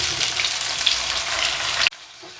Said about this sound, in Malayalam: എണ്ണ ഒന്ന് ചൂടാകുമ്പോഴത്തേക്കും ഇതിലേക്ക് നമുക്ക് നമ്മുടെ തക്കാളി ചേർത്ത് കൊടുക്കാം.